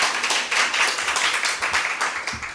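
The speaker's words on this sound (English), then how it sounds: "You can clap for him." An audience claps for a presenter at a regional biogenome institute session, a steady patter of many hands at moderate volume that carries on without a pause.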